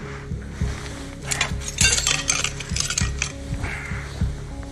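A cursed clay pot struck repeatedly without breaking: a series of hard, ringing knocks and clinks at a steady, uneven rhythm, close and fairly loud, with no voices.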